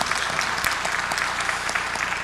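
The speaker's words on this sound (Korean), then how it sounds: "다시 한번 박수로 축복합니다" A church congregation applauds in a steady, fairly loud wash of clapping during an evening worship service, with no break for the whole short stretch.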